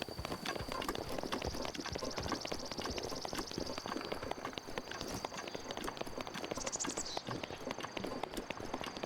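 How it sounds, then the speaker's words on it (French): Horses' hooves clip-clop steadily in the video game Zelda Breath of the Wild, a quick continuous patter at moderate distance over soft game ambience. "il y a des chevaux comme par hasard"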